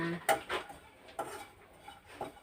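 A spoon stirs freshly roasted grated coconut in a pan just off the stove, giving a few sharp scraping clinks against the metal with quieter rustling in between.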